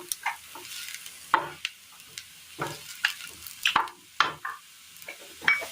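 Okra and onion sautéing in a pan for a Kerala curry, soft sizzle broken by repeated scraping and stirring strokes with a utensil knocking the pan, close and fairly quiet.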